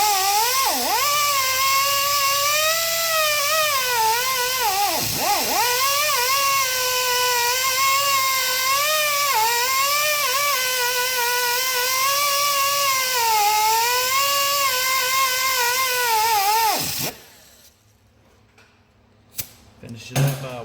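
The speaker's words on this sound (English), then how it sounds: "Now I'm going to use this type wire brush on my angle grinder just to try to clean it up" Angle grinder fitted with a wire brush cleaning the water pump mounting surface on a Ford 5.4 truck engine, a loud steady high-pitched whine with brief dips as it bites, running for about seventeen seconds before cutting off to near quiet.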